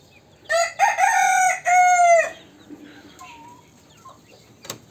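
A Police Cap rooster crows once, loud and near, with a long drawn-out call, followed by quieter clucks and soft rustling among the chickens.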